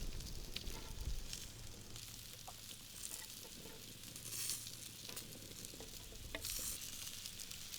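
Chunks of black pudding frying in a pan alongside potatoes: a soft, continuous sizzle with light crackling and occasional stirring scrapes, fairly faint, with no voices.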